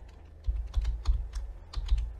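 Fingers tap out a short burst of keystrokes on a computer keyboard while entering Linux terminal commands, quick irregular clicks close to the mic with brief pauses between, no voices.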